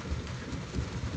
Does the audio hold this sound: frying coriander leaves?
no